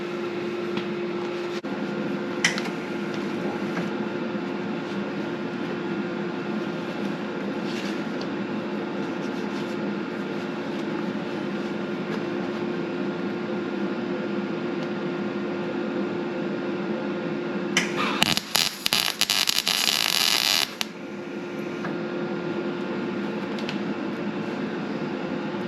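MIG welding on the frame of a totaled 1991 Chevrolet Camaro: a brief crackling burst of about three seconds late in the clip, over a steady low background hum.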